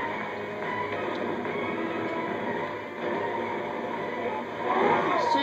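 A subway train in the video game Lego Marvel Superheroes rumbles steadily on its rails, a continuous close roar with faint wheel squeal near the end and no clear talk.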